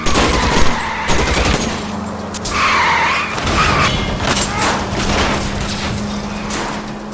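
Gunfire crackles during an L.A. Noire car chase, with shots aimed at a fleeing car's tires. The loud, close bursts of shots mix with engine roar and tire noise in a busy, continuous din.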